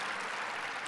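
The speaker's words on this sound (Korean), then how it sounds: "박수 한번 주세요." Audience applause at a seminar, a dense, steady wash of clapping from a crowd that fills the short moment without pause.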